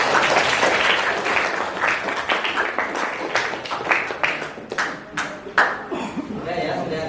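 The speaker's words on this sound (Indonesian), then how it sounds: "Oke, tepuk tangan." An audience bursts into applause at a school supervision session, a dense run of hand clapping that stays loud, then thins into scattered claps near the end.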